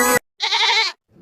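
Cartoon goat bleats in one loud, wavering burst lasting about half a second, preceded by a short harmonic cry and followed by faint low rustle; no speech.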